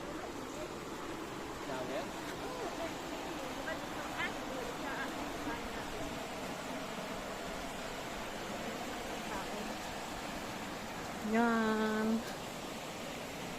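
Water rushes continuously at Kawasan Falls, a steady broad wash of falling water heard at moderate distance, with a brief voice rising over it near the end.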